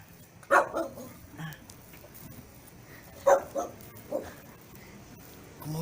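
A household dog barks a few times near the front door of its home, sharp separate bursts with long quiet gaps, moderately close against low background noise.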